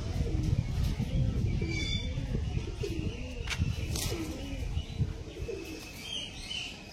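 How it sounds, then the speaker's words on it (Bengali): Large Kalanka pigeons coo in a steady series of low, rolling calls, close and fairly loud, with light chirps and faint wing flutters around them. "এই বড় সাইজের পায়রা,"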